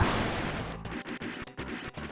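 Explosion effects from the Super Famicom mecha game Metal Warriors (Valken), a dense burst of crashing blasts at the start, then choppy repeated bangs and pops with short gaps, loud and close.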